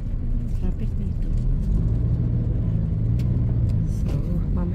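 Continuous road traffic on a day trip to a floating market outside Bangkok: a dense, steady rumble of cars and buses passing, with engine noise filling the scene throughout.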